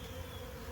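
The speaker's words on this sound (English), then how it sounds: "when the bees in front of them take off, they'll drop" Honey bees swarm around the front of their hive, making a steady, dense buzz that stays close and continuous throughout, with no voices.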